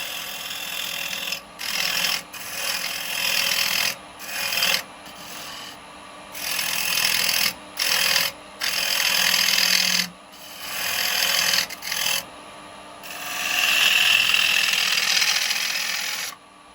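Turning tool cutting a wooden bowl on a lathe, a dry scraping rasp in repeated bursts separated by short pauses, close and moderately loud over a steady hum.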